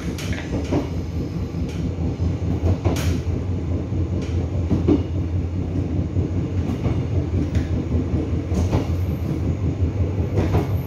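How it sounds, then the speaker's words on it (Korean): A Gyeongbuk Line passenger train between Gimcheon and Yecheon rumbles steadily along the track, with rhythmic wheel clatter and car noise throughout, loud and continuous with no talk. "우리 열차는 김천역을 출발하여 목산, 청리, 상주, 삼창, 점촌, 용구, 대포, 예천역을 거쳐 영주역까지 가는 905 1803 열차입니다"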